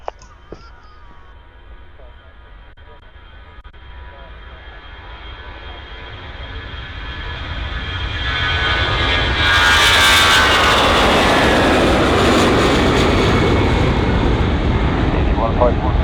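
An EasyJet airliner takes off from runway 27 at Bristol Airport, its engine roar building steadily from a distant rumble to a loud, sustained blast. Radio chatter is faintly audible early on.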